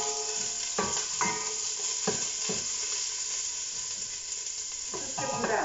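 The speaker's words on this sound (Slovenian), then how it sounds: "Zdaj pa to še naprej premešamo, dokler čebula ni tako malo zlatasto rjava." Chopped onion sizzles steadily in hot oil for minestrone, with a few scraping stirs of a spoon across the pot coming through the close, continuous frying hiss.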